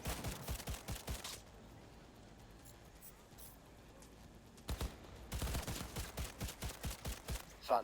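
Automatic weapon fire in Cyberpunk 2077 comes in rapid bursts near the start and again toward the end, with a quieter gap between them. Voices are heard under parts of the shooting.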